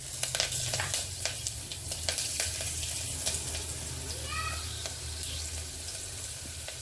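Cumin seeds, a chili, curry leaves and cloves sizzle in hot oil with a steady crackling hiss and scattered pops, along with stirring and a brief clatter of utensils.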